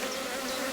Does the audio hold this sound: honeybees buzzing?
yes